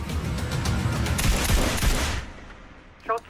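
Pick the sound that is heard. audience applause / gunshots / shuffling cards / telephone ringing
gunshots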